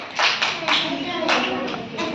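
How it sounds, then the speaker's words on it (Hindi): Schoolchildren in a classroom clap for a classmate, with a quick burst of several hand claps from a small group, fairly close and loud, alongside faint voices. "ताली बजाओ इसके लिए"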